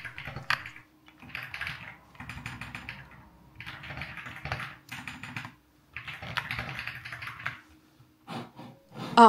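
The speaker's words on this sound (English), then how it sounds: "and listen to this keyboard." Bursts of rapid clacky keyboard typing, close and crisp, separated by short pauses.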